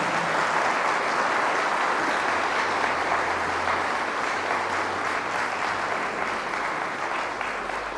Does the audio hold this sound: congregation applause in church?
yes